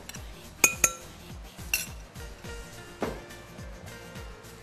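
A spoon stirs yogurt and beet together in a bowl, sounding as a series of light metallic clinks and scrapes against the dish, with a few sharper taps standing out over a quiet background.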